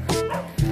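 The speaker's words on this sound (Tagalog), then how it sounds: "kahul ng hayop, ay ng aso." A dog near a hillside house in Tabuk City, Kalinga, barks twice, one yelping bark then a second lower one after a short gap, close and fairly loud.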